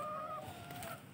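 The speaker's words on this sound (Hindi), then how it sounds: "और ये है जी एक मुर्गी" A hen gives a short, soft cluck, faint and heard alone.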